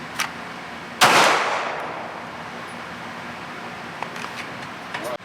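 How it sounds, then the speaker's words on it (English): A single sharp handgun shot rings out after a holster draw at a shooting range, a loud close crack about a second in with a long fading tail, followed by faint scattered clicks and rustles. "take the slack out of the trigger, and once an acceptable sight picture has been achieved, break your shot"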